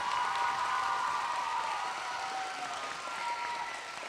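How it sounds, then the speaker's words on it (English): Audience applause for teacher Silvia Miranda at an award ceremony, a steady sustained round of clapping from a crowd in a hall, with a faint tonal hum or feedback running underneath. "That deserves a huge round of applause"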